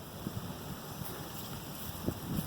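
Wind blowing across an open field in cold weather, a steady broadband rush with occasional low gusts and buffeting against the microphone, no voices.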